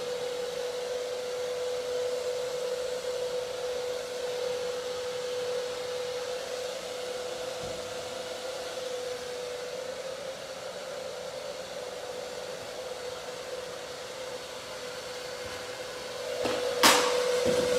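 A hair dryer runs at low speed on high heat with the diffuser off, a steady close whine and airflow that holds for the whole stretch, then a short knock near the end, with no talk.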